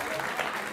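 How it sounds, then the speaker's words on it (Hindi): Brief burst of clapping from a yoga class group applauding participants, a dense even patter of hands lasting under a second, fairly close, with a voice mixed in. "जिन्होंने किया उनके लिए ताली बजाओ"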